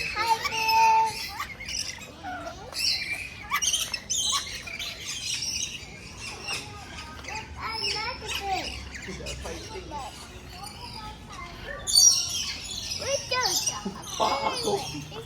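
Birds at KL Bird Park squawk and chirp in sharp, repeated bursts at close range, with a louder flurry near the end, while people talk nearby.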